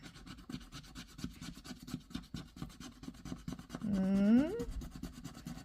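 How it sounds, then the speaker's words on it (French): A coin or fingernail rubbing and scraping a scratch-off card in steady, close, fast strokes, with a brief louder rasping sweep near the end; no one speaks over it. "Et ici, on va gratter."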